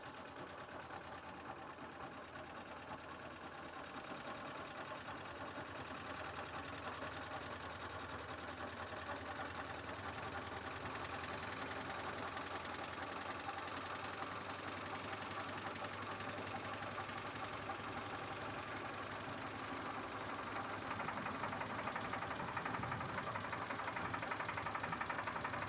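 A machine engine running as its revs are raised gradually while system pressure builds, a steady droning hum that grows slightly louder and more intense over about twenty-five seconds, with no voices.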